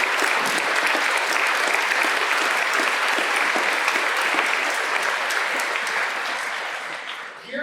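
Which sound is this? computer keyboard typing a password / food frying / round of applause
round of applause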